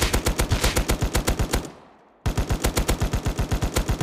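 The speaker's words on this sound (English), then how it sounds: "there's also a new weapon with the HMLMG" HMLMG light machine gun firing in the video game Rust, a rapid rhythmic burst of loud shots that pauses briefly with a fading tail, then resumes full-auto fire.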